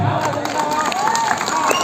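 An audience at a Tamil stage mimicry show applauds and cheers, a brief loud burst of clapping and voices throughout.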